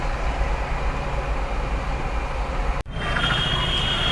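A train rolls past a closed railway level crossing on a road trip from Kolkata to Koraput, a loud, steady rumble of wheels and carriages that holds throughout with one brief dip near the end.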